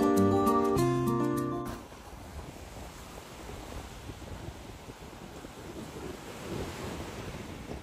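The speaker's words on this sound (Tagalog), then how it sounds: "malakas yung alon" Strong ocean waves wash onto a beach in Boracay, a steady rushing surf with wind noise, following a brief burst of music at the start.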